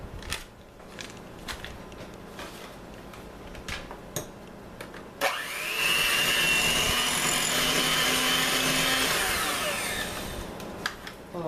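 Electric mixer creaming cream cheese and softened butter in a bowl, starting abruptly after some clatter and running as a steady close whir for several seconds before winding down.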